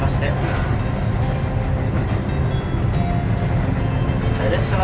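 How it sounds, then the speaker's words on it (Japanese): Steady low rumble and rolling noise of the Ginga Okhotsk limited express train running on the line, continuous and loud with faint higher rattles, heard from inside the carriage. "列車はこれより地方高原鉄道ふるさと銀河線へ入ってまいります。"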